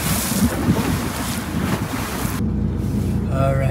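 A paddle-wheel boat chugs along on open water, with steady wind rush and churning water noise throughout, fairly loud and close.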